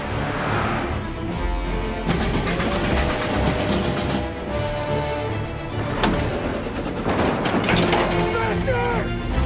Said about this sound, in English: He's trying to beat the train!